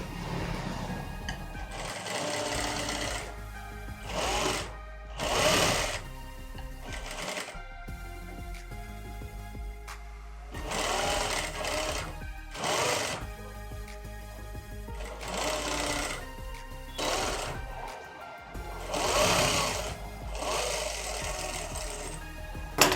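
Sewing machine stitching skirt fabric, running in repeated bursts of rapid mechanical whirring with short pauses between runs, close and clear with no talking.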